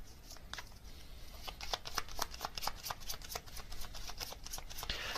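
Tarot cards being shuffled by hand, a steady run of crisp riffling flicks and soft slaps lasting several seconds, close and moderately loud with no talking.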